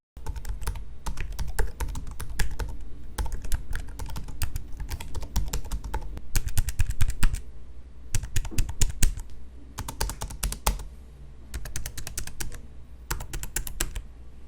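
Rapid, continuous typing on the keyboard of an ASUS ROG Zephyrus G16 laptop, crisp clicks in bursts with brief pauses, close and clear with no talking.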